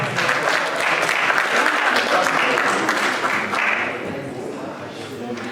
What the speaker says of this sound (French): Mathias, sous vos applaudissements s'il vous plaît.